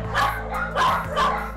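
Dogs in a crowded animal hoarding home bark in three loud, close bursts about half a second apart, with no voices over them.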